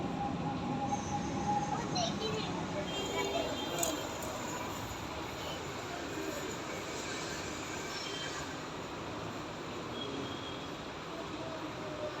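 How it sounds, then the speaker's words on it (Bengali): A metro rail train arriving, a continuous rumble of wheels on track with faint squeals, moderately loud and steady, while people speak quietly in the background. "এই যে একটা মেট্রো রেল চলে আসছে"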